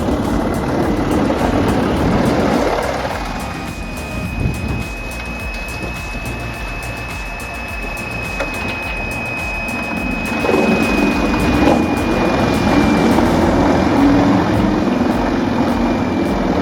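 A 1006 RT wood chipper shreds logs with a loud, continuous mechanical roar and grinding, dipping in intensity for several seconds before surging back up as more wood is fed in.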